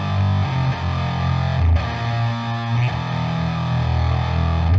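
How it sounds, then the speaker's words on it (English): Heavily distorted electric guitar power chords played through a Neural Amp Modeler preset, loud and sustained with a few chord changes and no talking. "So big chords, right? Like even power chords."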